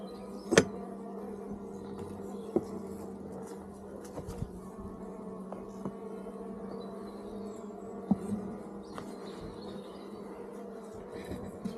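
Honey bees hum around an open hive of Mini Plus frames during an inspection, a quiet steady buzz with occasional faint ticks and knocks as the frames are handled.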